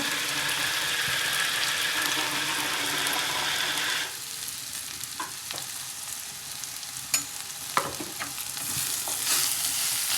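Vegetable cooking in a pan with cumin, chilli and salt, giving a steady sizzle that softens after a few seconds, with occasional light clinks and stirring scrapes close by and no talking.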